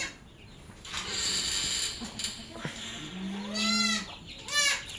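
Goats bleat near the end in a couple of wavering calls, close by, over a low, busy background with faint farmyard noise.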